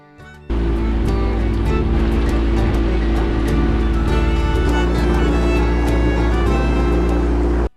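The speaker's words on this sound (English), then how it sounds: "as our boat kept sailing" Boat cruising on Irai Lake during a boat safari, a loud steady engine drone with water rushing against the hull, continuous and close throughout.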